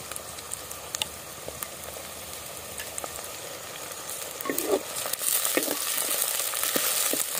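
Aubergines sizzle and fry in spiced rice masala in a pan, a steady crackle with scattered pops and stirring scrapes that grows louder and denser toward the end.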